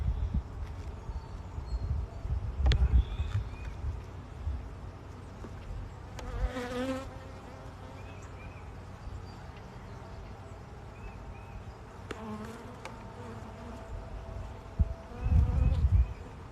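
Bees buzz steadily around an open beehive during a hive inspection on a farm, with a close hum swelling and fading, scattered knocks and handling noises, and a few faint bits of voice.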